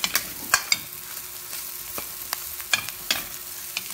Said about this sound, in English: Medyo lutuin natin ng konti yung veggies or 3 minutes para hindi naman siya sobrang hilaw.